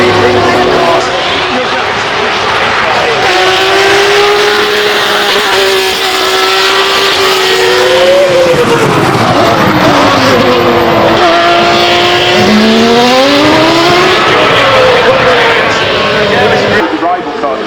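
A 1979 Ferrari 512 race car climbs the hill at the Goodwood Festival of Speed, its engine note loud and steady, rising and falling through the gears under continuous commentary.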